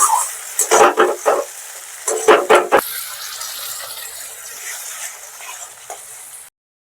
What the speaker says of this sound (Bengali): এবার আমি পোস্ত আর কাজু বাদাম বাটাটা দিয়ে দেবো, দিয়ে এটাকেও ভালো করে আমি কষাবো